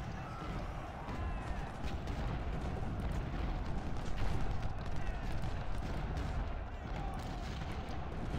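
Civil War artillery in Ultimate General: Civil War booms in a dense, rolling barrage of cannon fire mixed with crackling musketry. The distant-sounding rumble runs continuously, and someone talks faintly over it.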